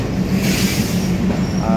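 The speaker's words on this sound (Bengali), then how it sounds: "এই তো ট্রেন চলে এসেছে এটা এক্সপ্রেস ট্রেনটি রাজশাহী থেকে" An express train from Rajshahi pulls into Bheramara railway station, a large four-track station, with a loud steady rumble and rhythmic wheel clatter close by, under murmuring voices.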